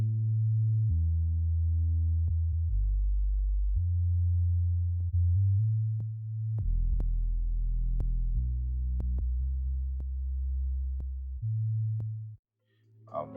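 Deep, smooth sustained bass notes in a mix, shifting pitch every second or two and played in sections with and without EQ, steady and loud with occasional faint clicks and no voice.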